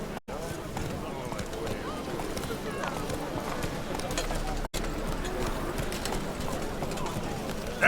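Steady hoofbeats of the horse Roach trotting in The Witcher 3: Wild Hunt, a continuous rhythmic clatter under ambient game sound and a voice.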